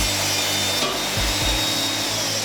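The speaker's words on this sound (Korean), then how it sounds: "오빔 양 끝에는 TS 볼트가 들어갈 구멍을 타공해줍니다" A steady, loud drilling whine with low rumbling tones runs throughout, grinding bolt holes into the ends of a steel beam without pause.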